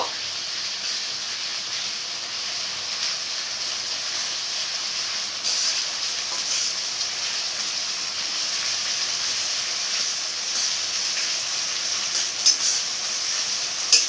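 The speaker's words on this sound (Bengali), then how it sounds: "আদা রসুন পেস্ট দিয়ে আবার পেঁয়াজ কুচিটার সাথে আবার একটু নাড়াচাড়া করব" Ginger-garlic paste and chopped onions being stirred in a frying pan for chicken curry: a steady, close sizzling hiss that runs unbroken throughout, with a few faint bumps near the end and no voices.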